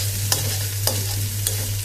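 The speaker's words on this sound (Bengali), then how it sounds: "মিশিয়ে নেব, সব একসাথে সুন্দর করে মিশিয়ে নেব" Chicken noodles with carrot and egg being stirred together in a wok, with a few distinct scraping strokes of the utensil spaced through a steady low hum and faint sizzle, close and without talk.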